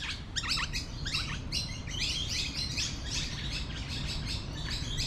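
Birds chirp and tweet in an Australian park, repeated bright calls close by over a steady low rumble of nearby traffic.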